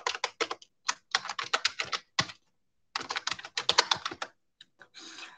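Rapid clicking keystrokes on a computer keyboard as a git clone command is entered, in bursts of quick taps separated by short pauses, close and clear in a quiet room.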